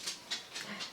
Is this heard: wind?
no